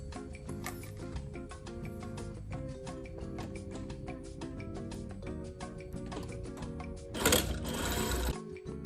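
A sewing machine runs steadily as it understitches the lining of a hoodie hood, a fast, even mechanical ticking with a brief louder burst near the end, close and alone with no voices.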